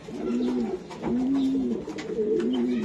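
Racing pigeons in a loft give repeated rolling coos, three clear phrases close by, with steady low loft noise underneath.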